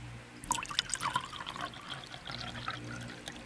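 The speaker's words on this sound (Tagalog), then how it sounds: "lalagyan natin ng laman ang basong bakante" Water pours and splashes into a glass, a bright trickling stream with drips, close up and fairly quiet.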